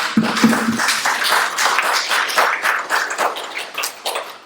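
An audience gives a round of applause for the owner of a bowling center, a burst of many claps close by, uneven and lively, tapering slightly toward the end.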